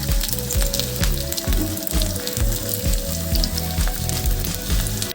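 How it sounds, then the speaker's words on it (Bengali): Sliced bitter gourd frying in hot oil in a wok, a loud, continuous sizzle and crackle with rhythmic stirring scrapes. "তেলটা গরম হয়ে গেছে, এবার আমি উচ্ছেগুলো ভেজে নেব"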